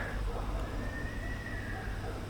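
Loud, drawn-out animal cry at night outside a tent, one long wavering call heard from a distance over a steady low rumble of background noise.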